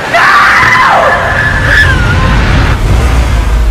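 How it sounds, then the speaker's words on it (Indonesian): A young widow in the horror film Amelia's Children screams a loud, sustained, wavering cry that dominates the moment, then trails off into a low rumbling film soundtrack. "si janda muda berteriak keras berkata no"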